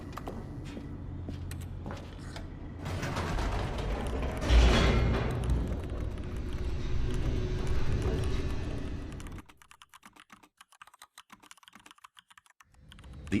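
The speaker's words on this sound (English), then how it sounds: "The elevator raced downward, plummeting towards an unknown fate." An elevator in The Stanley Parable descends with a sustained mechanical rumble, creaks and clattering for several seconds, then the noise cuts out and only faint ticking remains.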